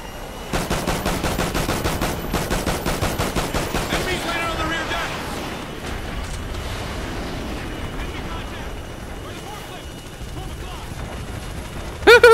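Gunfire in the Call of Duty Ghosts single-player campaign, a rapid run of loud repeated shots followed by chaotic blasts and game noise, with a voice talking over part of it.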